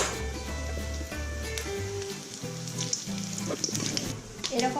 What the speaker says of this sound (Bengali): তেলটা গরম হয়ে গেছে, তেজপাতা, শুকনো লঙ্কা আর গোটা জিরা দিয়ে দিলাম